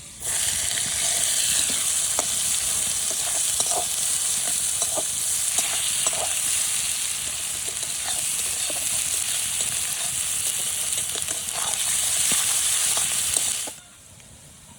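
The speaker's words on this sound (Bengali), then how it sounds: "পেঁয়াজটা একটু ভেজে নিয়েছি" Onions frying in hot oil give a loud, continuous close-up sizzle with occasional soft stirring scrapes, ending abruptly near the end; no one speaks.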